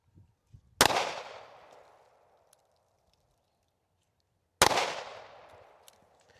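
Two sharp, loud gunshots from a Taurus firearm fired while zeroing a red dot optic at an outdoor range, spaced about four seconds apart, each with a ringing decaying tail, no talk between.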